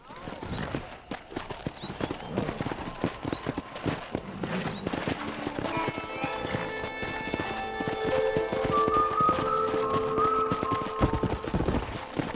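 A herd of wild horses in the Red Dead Redemption video game gallops close by with dense, rapid hoofbeats, and neighs and whinnies join in, while game music rises beneath them.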